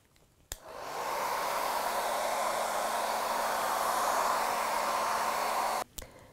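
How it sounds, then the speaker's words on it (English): A hair dryer switches on with a click, then blows a steady, loud whooshing hum for about five seconds, drying watercolor paint, before clicking off. "you can just use a hairdryer just to dry it out a bit at this stage"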